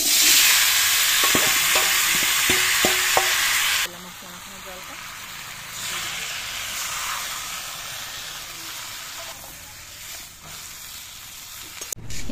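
Spice paste for a rohu fish curry hits hot oil in a wok in a village kitchen, giving a loud, steady broadband sizzle with a few stirring clinks early on, then a quieter continuous frying hiss.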